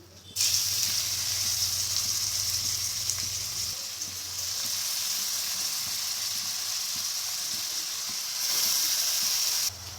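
Grated bottle gourd sizzling in hot ghee on a medium flame, a loud, continuous close hiss that holds steady throughout, with faint stirring scrapes and no talking.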